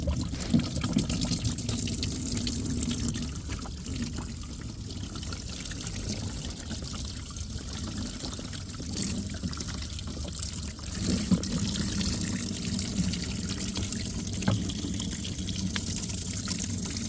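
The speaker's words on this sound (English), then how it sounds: "We're gonna put some water in here." Water pours steadily into a fish box on a boat, a quiet continuous splashing and trickling that runs the whole time with no talk over it.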